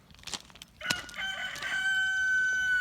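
A backyard rooster crows loudly and close by in the morning, a single long drawn-out call rising after a few soft clucks from the hens.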